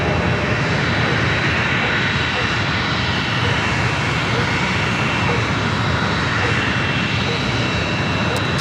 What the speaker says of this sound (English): this is Lufthansa Flight 467 heading back to Munich on a 1-year-old A350-900